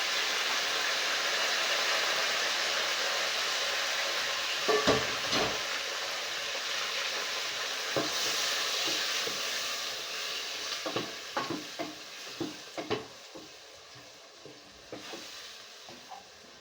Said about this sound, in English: We're just going to stir it to combine everything.